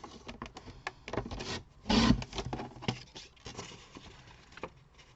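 Paper card being cut for a handmade folded card, with a run of light scraping, patter and rasping strokes and one louder burst of cutting near the middle, close up and without talk.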